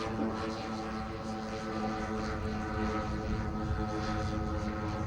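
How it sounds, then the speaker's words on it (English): A large scale Boeing 747 model plane, 20 feet wide, drones steadily overhead on four weed whacker engines, a continuous buzzing hum at moderate distance. "That's a big airplane, 20 foot wide, 75 pounds, 4 Weed Whacker engines on board."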